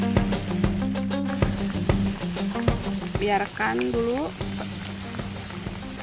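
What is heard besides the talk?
bakwan vegetable fritter batter frying in hot oil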